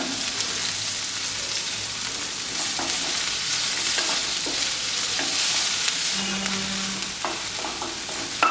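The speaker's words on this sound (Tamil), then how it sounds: "அதையும் போடுறேன் இது நல்லா வதங்க விட்டுருங்க" Chopped onion and green chili sautéing in a pan for tomato soup, a steady close sizzle with occasional spoon scrapes and stirring clicks throughout, no talking.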